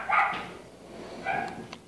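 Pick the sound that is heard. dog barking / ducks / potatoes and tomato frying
dog barking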